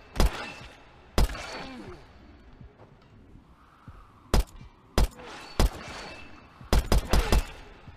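Modded guns fired in the VR game Blade & Sorcery: Nomad, sharp loud single gunshots spaced out, then a quick cluster of rapid shots, with enemy groans and thuds in between and faint voice sounds underneath.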